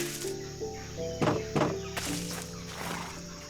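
A horse neighs in a blocky Minecraft-style video game, two short sharp bursts in the middle over a bed of game music tones.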